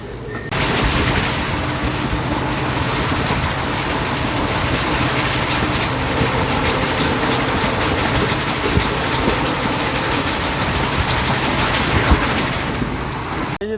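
Bathinda–Firozpur passenger train 54561 running, a steady close rumble and rattle of wheels and carriages that holds continuously throughout with no voices.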